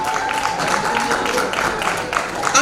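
An audience at a multicultural community celebration applauds for an honoured guest, steady mid-level clapping from a crowd mixed with talking voices.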